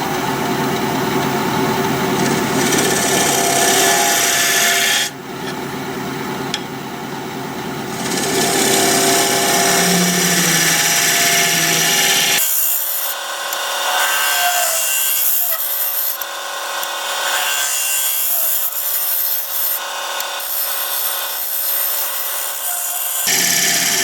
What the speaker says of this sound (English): I think I'll just use my bowl scraper.